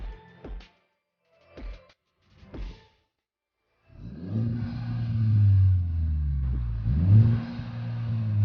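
A 2017-2019 Honda Civic Type R stock exhaust fires in three short blips, then revs up loudly twice with a deep droning rise and fall, close by.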